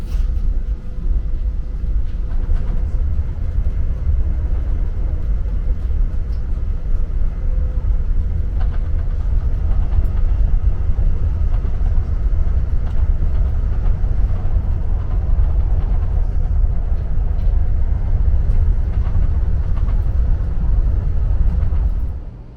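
An Amtrak Acela train runs at high speed past Newark, New Jersey, heard from inside the cabin as a steady, heavy low rumble and rushing roar that holds constant throughout.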